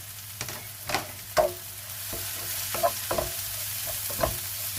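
Beans with red and green chilies sizzle in a pan as they are sautéed, a steady close frying hiss broken by soft clinks and scrapes of stirring.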